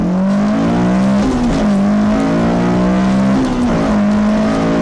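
A 2008 Honda S2000 sports car, a high-revving engine with a 9,000 RPM redline, revs hard and climbs through its range in rising sweeps with brief gear-change dips, loud and close throughout.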